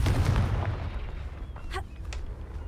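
A Confringo spell blast bursting in the Hogwarts Legacy video game, a dull booming explosion within a loud rumbling game mix, followed by a few brief sharp pops.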